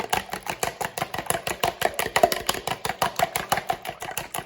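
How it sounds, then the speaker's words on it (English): A fork whisks naan dough ingredients in a bowl, giving a steady, fast run of light clicking scrapes at close range. "whisk that together with a fork"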